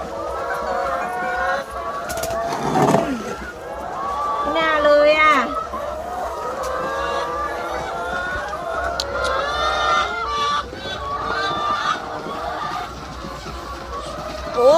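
Laying hens on a Thai egg farm in winter cluck and squawk all around, many birds at once, close and steady, with people talking over the flock.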